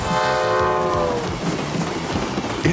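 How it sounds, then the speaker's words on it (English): A train horn blares loudly for about a second, then gives way to the rhythmic clatter and rumble of rail cars rolling past nearby. "there goes a train"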